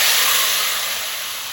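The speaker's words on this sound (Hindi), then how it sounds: "तड़के को दाल में डाल।" A loud, steady sizzling hiss as hot tempering with crushed chillies is poured into cooked lentils, slowly fading a little over a second or two.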